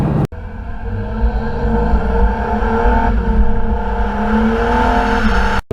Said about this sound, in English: Here you got a twin turbo V6 that sounds really good.